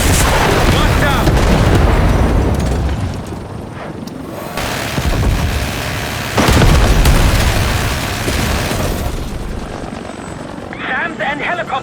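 Missile strikes and explosions in Call of Duty Black Ops 6 rumble heavily under a constant helicopter roar, with booming blasts and shouted voices over the loud battle.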